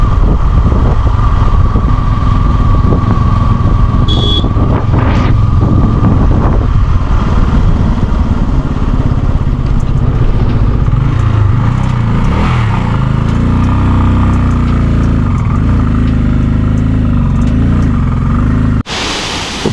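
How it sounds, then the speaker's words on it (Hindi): A motorbike ridden along a mountain road in Uttarakhand, its engine droning loud and constant under heavy wind buffeting on the microphone, with no talk. "मज़ा आ रहा है बस बाइक चलाने में।"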